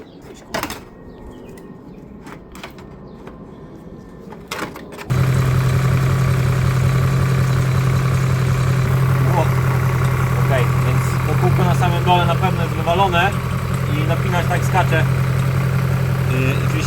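A BMW M5 engine idles steadily with a worn main drive belt tensioner, a constant mechanical hum that starts abruptly after a few seconds of quieter background, with people talking over it.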